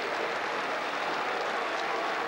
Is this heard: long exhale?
no